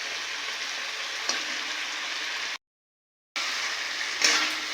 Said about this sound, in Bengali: এবারে আমি ভেজে রাখা মাছগুলো দিয়ে আরেকটু নেড়ে চেড়ে নেব।